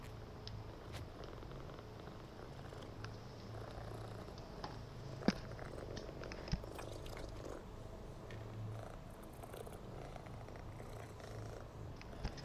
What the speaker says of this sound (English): Oh, there's my cats. Hey, kitties.